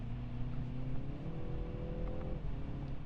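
BMW 330i 2021 sedan with a four-cylinder engine in sport mode, a steady engine drone with a rising then settling tone, heard from inside the cabin with no talking.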